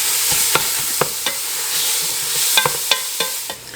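Meat sizzles steadily in olive oil in a pan while a utensil chops and stirs it, with sharp scraping clicks landing every half second or so over the constant frying hiss.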